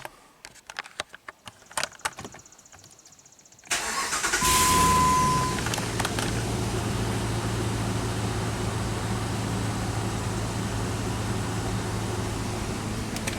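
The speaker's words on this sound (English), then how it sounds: "we can fire the truck up and make sure there's no airbag light anymore" A Jeep truck cranks and fires up after a few seconds of quiet clicks and shuffling, then settles into a steady, loud running idle close by, with no voices.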